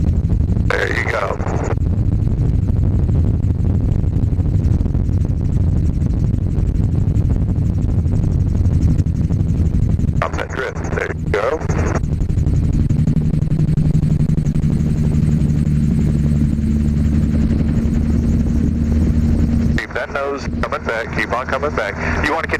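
A gyroplane's engine and rotor drone steadily at low pitch in the open cockpit during flight training. Bursts of wind buffet the microphone, and a voice talks over it several times.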